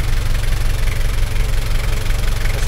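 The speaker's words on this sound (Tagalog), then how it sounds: "pinapainit po natin at dinig nyo naman po yung ingay ng makina ng andar" A Nissan Frontier engine idles while warming up, giving a steady, loud, close low rumble with a faint knocking pulse throughout and no talking.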